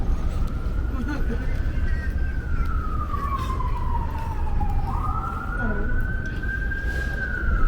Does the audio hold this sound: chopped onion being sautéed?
no